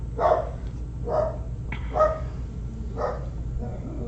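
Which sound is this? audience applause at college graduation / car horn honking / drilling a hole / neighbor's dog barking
neighbor's dog barking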